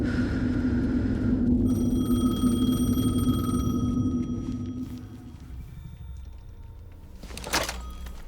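A telephone rings in the video game Alan Wake 2. A steady electronic ringing tone sits over a heavy low rumble, then fades, leaving a quiet ambient drone and a brief thump near the end.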